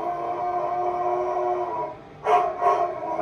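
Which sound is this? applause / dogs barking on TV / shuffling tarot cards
dogs barking on TV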